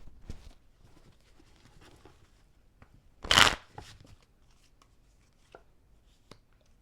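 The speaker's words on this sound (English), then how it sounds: "let me pull these cards real quick." A deck of cards is pulled and shuffled close by, with a single loud riffle burst in the middle, surrounded by quiet taps and handling rustles in an otherwise hushed room.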